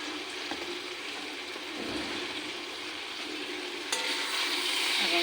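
Mixed winter vegetables with ghee and sugar are stirred in a pan, a steady low sizzle with faint scraping and a brief clatter near the end.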